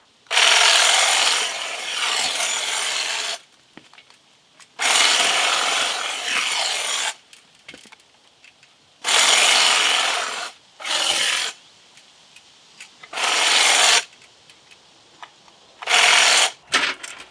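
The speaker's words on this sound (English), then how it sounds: "This has gone very quickly and easy with this hedge clipper here." A hedge clipper trims the top of a red dogwood shrub (Cornus alba 'Sibirica') in repeated loud, buzzing, rasping bursts lasting one to three seconds each. Short quiet gaps separate the bursts, and the sound is close up.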